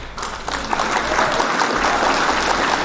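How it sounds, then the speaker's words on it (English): A canned applause sound effect fires on a live news show, a loud, full burst of crowd clapping and cheering that holds steady for a few seconds. "Can you hit the clap for me?"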